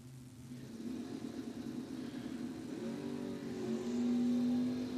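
Classic GM drag race cars launching off the line at a bracket drag racing event, a distant engine roar that rises in pitch and grows louder as they accelerate away.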